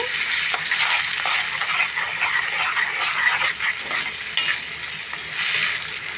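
Ground spices, coriander powder, salt, chili powder and turmeric, frying in a pan for liver curry, a steady close sizzle with soft stirring scrapes running throughout.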